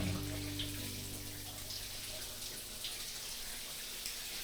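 A hand shower head sprays water in a home bathroom, a steady hissing rush holding evenly throughout, close and moderately loud with no talk over it.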